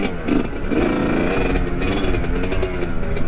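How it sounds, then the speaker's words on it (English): A two-stroke dirt bike engine, a Chinese Husqvarna-clone GPX Moto, revs hard up close with a raspy, buzzing crackle that rises and falls through short bursts of throttle. "That's definitely that 2-stroke."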